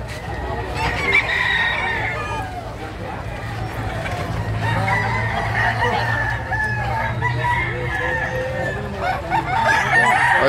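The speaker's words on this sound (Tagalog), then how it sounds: "sa dami ng manok o." Many native roosters and chickens crowing and clucking at once in a busy gathering, with overlapping calls near and far and people talking throughout.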